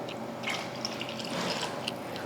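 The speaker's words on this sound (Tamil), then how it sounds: "அதுக்கு 2 கப் அளவுக்கு தண்ணி சேர்த்துக்கலாம்." Water is poured into rice, two cups of water to one cup of home rice, for tomato rice. The pour makes a soft, close splashing and trickling with small bursts and drips, and no one speaks.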